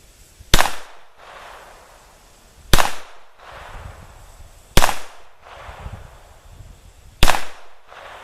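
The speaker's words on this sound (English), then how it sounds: "We'll do a 10-shot group from about, this is 23 yards." Beretta U22 Neos pistol fires single shots outdoors in a 10-shot group at 23 yards, four sharp loud cracks spaced about two seconds apart, each with a short echo tail.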